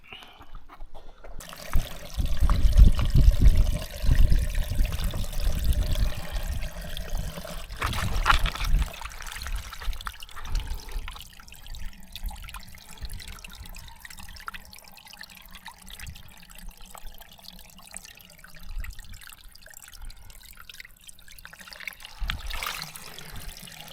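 Clear water running in a small mountain stream that has only just started flowing, a close gurgling trickle strongest at the start and then softening into a quieter, uneven burble with occasional splashes.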